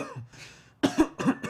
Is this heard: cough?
yes